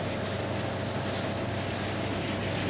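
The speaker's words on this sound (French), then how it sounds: "c'est les bruits du vent, je crois" Steady wind blows in Far Cry New Dawn, a continuous broadband rush with a low rumble and a faint steady tone running through it, with no voices over it.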